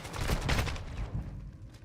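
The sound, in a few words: flashbang grenade explosion in Call of Duty video game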